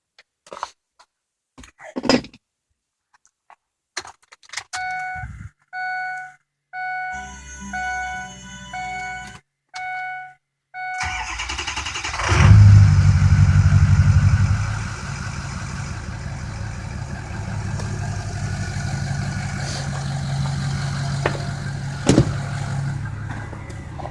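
A few beeps and clicks, then a Ford 6.0 Powerstroke diesel truck engine with its crankcase vent open to the air cranks and catches, settling into a steady, loud idle with a low rumble and exhaust whistle.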